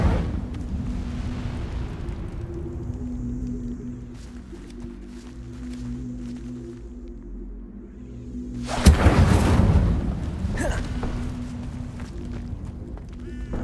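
Incendio fire spell cast in Hogwarts Legacy, a sudden roaring flame burst partway through that flares loudly, then fades back into game ambience with footsteps and low rumbles around it.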